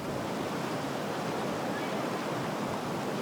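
Whitewater rushing through a rapid on South Africa's Fish River during a K2 canoe marathon, a steady, loud broadband roar of churning water with no break.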